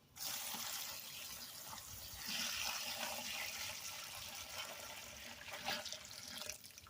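Acid being poured into a container holding gold-plated fingers in a plastic cage, a continuous splashing, trickling pour that swells midway and tapers off, faint and alone.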